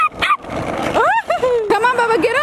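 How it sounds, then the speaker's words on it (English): A dog yips and whimpers in short, high, rising cries, close and loud over a few seconds, with no talk over the sounds. "Since you want to do all that barking."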